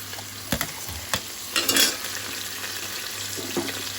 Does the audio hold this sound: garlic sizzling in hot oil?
yes